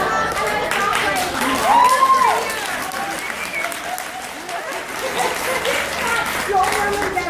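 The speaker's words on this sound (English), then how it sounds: "don't remember that applause" Audience applause during a talk about styling and body confidence, a steady crowd clapping throughout with a speaking voice rising over it near the start and again toward the end.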